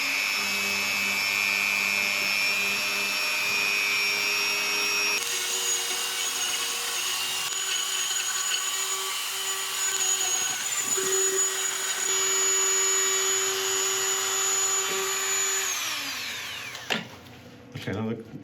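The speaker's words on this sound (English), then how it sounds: "I'm going to go and get my Dremel tool, and using a very fine bit, I'm just going to clean out all of these cracks we've got inside and out" Dremel rotary tool with a very fine bit grinding out cracks in an ancient oak bowl, a steady high-pitched whine running close and continuous, dipping slightly in pitch mid-way before winding down at the end with a few handling clunks.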